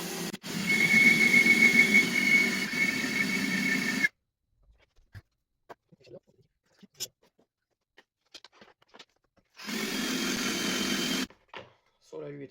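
A pillar drill runs in a workshop during preparation of a four-throttle intake on a four-cylinder engine, giving a steady loud whirring hum for about four seconds, then stopping into near silence with small clicks, and starting again for a short second burst.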